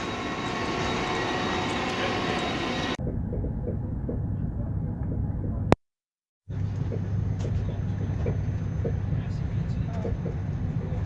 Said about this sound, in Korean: 기차가 왔습니다. 이 기차를 타고 뮌헨으로 갈 겁니다.